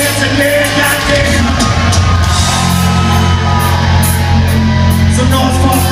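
A rock concert crowd at a show yells and cheers continuously, a loud, dense wash of shouts and whoops close around, with no break in the noise.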